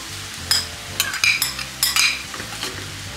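Ham and huitlacoche being stirred in a frying pan, with scattered utensil scrapes and clinks over a steady low sizzle, close by; background music hums underneath.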